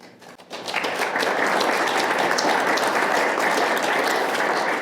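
Audience applause after a poem reading at a poetry event, starting quietly and swelling within a second into steady, sustained clapping from a sizable crowd.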